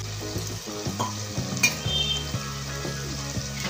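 Curd sizzling and frying in a pan as it is stirred for a pressure-cooker mutton biryani, a steady close sizzle broken by the scrape and clink of a spoon against the pan.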